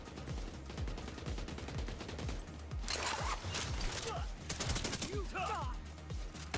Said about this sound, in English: So I put out a couple shots and then I quickly reloaded.